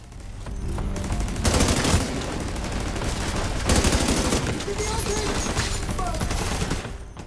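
A deployed turret fires in The Division 2, with dense bursts of rapid automatic gunfire in near-continuous, loud volleys that swell and ease over several seconds.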